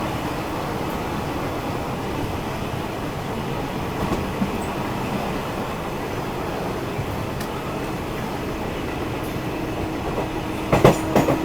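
Poorva SF Express train rolling through Ghaziabad Junction at a decent speed, a steady dense rumble with faint wheel clatter heard from inside the coach, with a few sharper clanks near the end.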